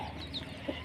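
Chickens cluck softly and briefly as they come to eat rice, a short burst of low fowl sounds over faint background noise.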